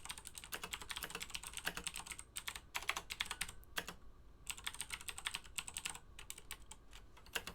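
Fast, steady typing on a computer keyboard gives dense, close clicking in bursts, with a few brief pauses and no voices.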